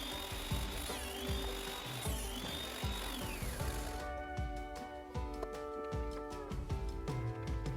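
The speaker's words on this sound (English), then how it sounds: "I set up the guide on the bandsaw to make my cuts" A bandsaw with a cutting guide, sitting on a wheeled stand, cuts through wood with a steady whining drone and rattling, mechanical clatter that runs continuously, fairly loud and close, throughout.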